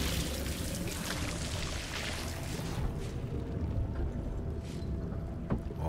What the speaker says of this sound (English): Is he pouring more?